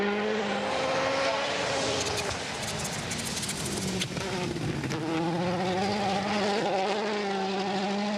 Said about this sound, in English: With a wastegate chatter, that chirping noise.